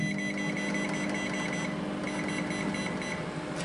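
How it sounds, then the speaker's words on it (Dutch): A microwave oven runs while reheating food for a meal, giving a continuous steady hum with a faint tonal whine, alone and unbroken throughout. "En dan een paar minuten in de magnetron."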